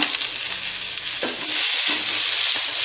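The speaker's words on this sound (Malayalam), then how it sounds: "ഇതെല്ലാം ചേർത്ത് കൊടുത്ത് നന്നായി വഴറ്റിയെടുക്കുക" Beetroot with green chilli, ginger and curry leaves sizzles steadily in a hot pan, a constant close frying hiss with a few soft scrapes from stirring, no voices.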